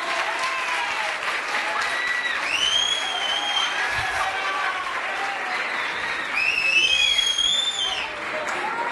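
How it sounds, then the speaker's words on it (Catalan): Audience applause for students at a local youth festival in Alcalà de Xivert: loud, sustained clapping from a large crowd lasting the whole stretch, with high whistles and a few cheers rising over it. "Un fort aplaudiment per a ells."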